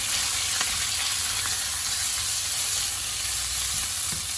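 Minced pork stir-frying in a pan with fried shallots, a continuous close sizzle and hiss with faint scraping stirs.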